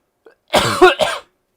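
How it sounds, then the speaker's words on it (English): A man gives a short, close, loud cough in two quick bursts, preceded by a tiny catch of breath, then silence. "Maybe I'm coughing because I'm just talking a lot."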